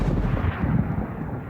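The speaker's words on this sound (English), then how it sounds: "Why are you shooting at that tower over there?" Gunshots in a VRChat roleplay, fired at a tower some distance away, come as booming, rumbling reports blended into a dense low roar with no clear gaps.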